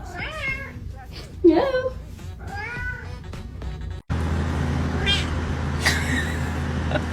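A cat meowing repeatedly in short, rising cries, close and clear, with a person talking nearby; partway through a steady low vehicle-like hum takes over while faint meows continue.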